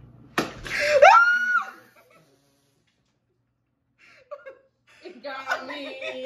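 A sharp balloon pop during a balloon pop challenge that splatters whipped cream, followed by a startled shriek and laughter, then quiet and some faint voices.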